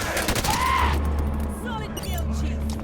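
Gunfire rattles in the Halo 5 video game, with rapid shots over constant game music and effects and a voice talking over the action.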